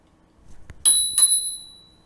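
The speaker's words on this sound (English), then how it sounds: "That's why you're using a bell." An electric scooter's handlebar bell is struck twice in quick succession, two bright close dings that ring on and fade over about a second, preceded by a faint click.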